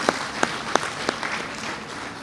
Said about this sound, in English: A huge applause for all the head of the institutions who are sitting here.